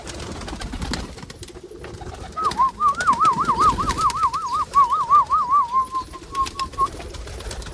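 Pigeons coo inside a pigeon house in a steady warbling run of calls lasting several seconds, fairly close, over faint background rustle and bird noise.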